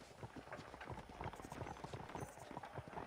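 Horse hooves clip-clop steadily in Red Dead Redemption, a rhythmic run of close, moderately loud beats over light wind noise.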